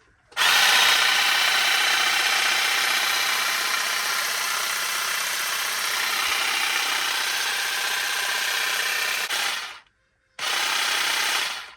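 Lidl 20V cordless hedge trimmer runs with a loud, steady buzzing motor drone for about nine seconds, stops briefly, then starts again at full power, with no talking.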